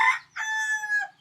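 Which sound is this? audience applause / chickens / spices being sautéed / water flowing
chickens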